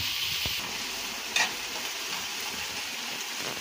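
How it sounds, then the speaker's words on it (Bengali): Chopped onion and garlic fry in oil, giving a steady, close sizzle with a light stirring scrape near the middle and no talking. "এটাও আমি একটু ভেজে নিই তেলের মধ্যে।"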